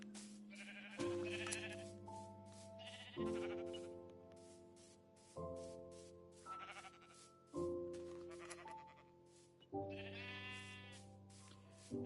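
Repeated sheep bleats from Minecraft, about six separate calls spaced a second or two apart, clear and alone with no talk.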